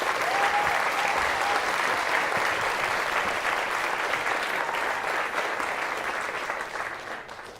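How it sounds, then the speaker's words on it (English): A large conference audience claps continuously in a dense, even wash of applause that holds steady and then fades slightly toward the end. "Please, a big applause."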